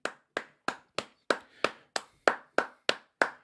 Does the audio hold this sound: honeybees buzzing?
no